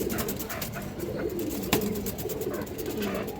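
Pigeons in a cage give low, rolling coos that repeat over a busy background of rustling and a single sharp knock.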